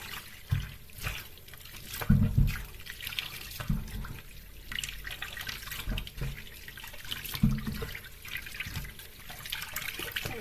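Potatoes and onions scrubbed under a running kitchen tap, with a steady splashing stream and intermittent louder gushes and clunks as the vegetables are handled in the sink, close and continuous with no voices.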